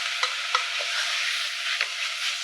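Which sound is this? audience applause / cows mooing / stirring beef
stirring beef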